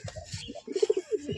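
Pigeons cooing close by, a few soft throaty coos and rolling murmurs in a short burst with quiet rustling underneath.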